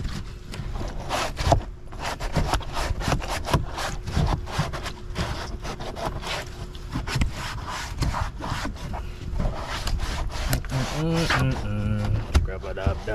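Scrubbing brush strokes rub and scrape steadily across a kayak hull with no soap, a dense run of close, repetitive friction noise lasting the whole stretch, with a voice speaking toward the end.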